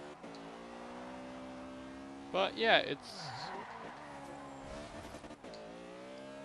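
A VW Corrado driven in Forza Horizon 2, its engine note climbing and dropping through gear changes, with a brief burst of tire or impact noise, under a person talking.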